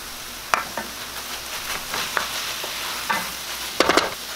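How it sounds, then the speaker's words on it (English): Pak choy leaves are stir-fried in a hot pan, with a continuous sizzle broken by repeated sharp scrapes and clatters of a utensil tossing the greens. "we're just stir frying it quickly just to get the leaves cooked"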